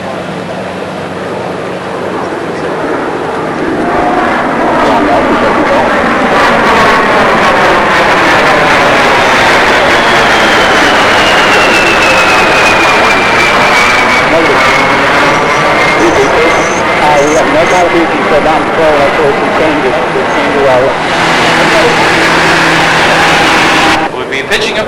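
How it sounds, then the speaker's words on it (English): Republic A-10A Thunderbolt II jets make a slow pass at an airshow arrival at Davis-Monthan AFB, Arizona, in 1992, their loud turbofan roar swelling and then fading with a sweeping whine, under a public-address announcer's talk. "Once again, a slow pass from your A-10s."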